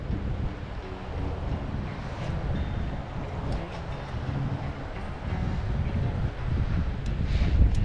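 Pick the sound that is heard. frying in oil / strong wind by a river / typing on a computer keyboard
strong wind by a river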